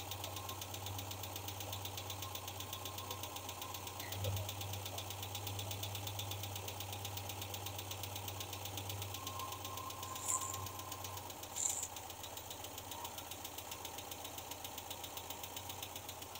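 An MGB engine idles steadily at a low, even rumble with a faint rhythmic knock, headlights switched on, with a couple of small clicks near the end and no talking.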